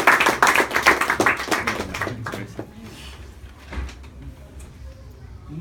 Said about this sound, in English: I think a round of applause for David